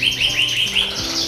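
A canary gives a quick series of bright, high chirps and short trills, close and clear, with no talking.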